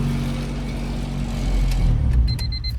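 A rusty Honda Civic EK with a GSR engine swap runs at a steady idle, a loud rough low rumble that swells slightly toward the end, with a few faint clicks and a thin whine near the close.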